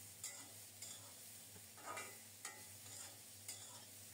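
Long beans being stirred through fried ingredients in a pan, a steady low sizzle broken by a few scraping strokes of the spatula at regular intervals, fairly faint and with no voices.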